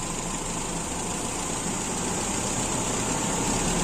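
Toyota Kijang engine with an Aisan carburetor runs at a raised idle, giving a steady, even close-up hum and vibration with no voices.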